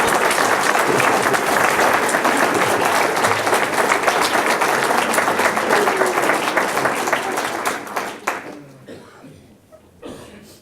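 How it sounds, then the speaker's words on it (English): Crowd at a town swearing-in ceremony applauding, loud sustained clapping from a packed room that fades gradually into scattered claps and quiet murmurs. "Now you can applaud everybody"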